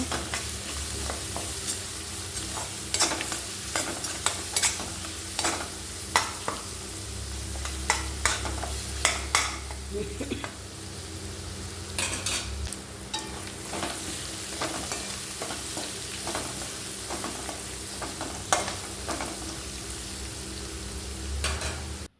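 Whole garlic cloves sautéing in hot oil in a pan while making tomato pickle, a steady close sizzle broken by frequent scraping and clinking spoon strokes, continuing throughout without speech.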